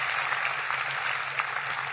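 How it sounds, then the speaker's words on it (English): Steady applause from a large crowd at a speech at NASA's Marshall center in Huntsville, a dense wash of clapping at moderate loudness that holds evenly throughout. "Give yourselves a round of applause"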